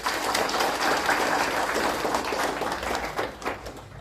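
Audience applause at an official installation ceremony for a vice-delegate in the Nord-Ouest department: dense, sustained clapping from a crowd, fairly loud throughout and easing slightly toward the end.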